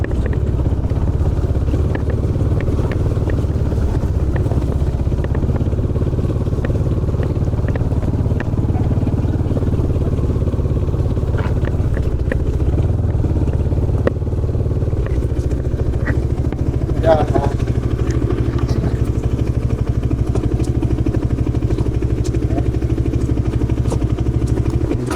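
A KTM motorcycle riding a rough, potholed road, its engine a steady low rumble with rattles and clatter throughout, heard close and loud under a voice talking.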